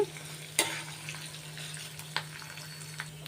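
Mustard seeds and tempering spices fry in oil in a pan for Andhra mustard pulihora, a faint steady sizzle broken by a few sharp crackles and stirring clinks.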